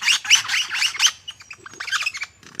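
Lyrebird calling up close: bright, rapid runs of loud chirps and squawks burst out in quick succession, then give way to scattered sharper notes and whistles, with no voices.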